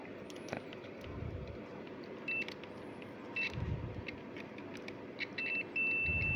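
A handheld digital multimeter in buzzer continuity mode sounds short, thin electronic beeps when its probes meet through a connected cable, ending in a longer steady tone over faint background hiss.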